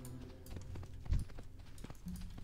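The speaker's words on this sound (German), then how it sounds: "jetzt kommt der Esel doch angerannt" Quick clip-clop of a running donkey's hooves in World of Warcraft, light and rhythmic, over faint background game sounds, with one heavier thump midway.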